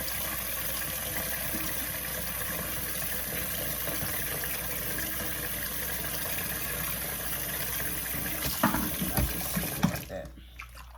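Steady tap water pours into a stopped-up sink while hair bundles are washed, a constant close rushing wash that ends in a few splashes and sloshes before cutting off.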